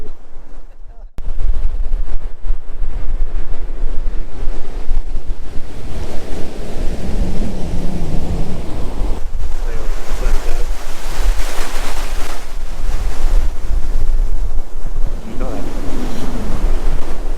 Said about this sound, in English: These waves are a pain in the ass.